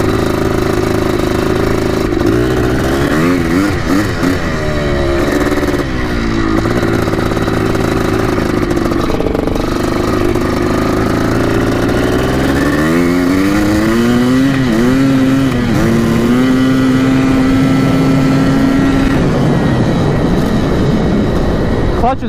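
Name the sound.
Yamaha YZ 490 dirt bike engine revving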